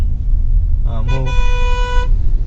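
A car horn gives one long, loud honk close by in traffic during a beginner's driving lesson, over road noise and the rumble of an engine.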